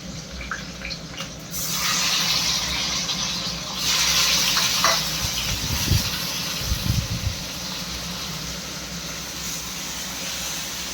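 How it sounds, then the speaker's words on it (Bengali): Chicken pieces dropped into hot oil with a little onion sizzle in a kadhai, a steady close frying hiss with a few soft clunks of meat and utensil near the middle. "এখন মাংসগুলো দিয়ে দেবো।"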